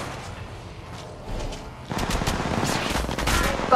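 Automatic gunfire crackles in the Apex Legends Mobile video game, a rapid, dense stream of shots that grows louder and keeps going to the end.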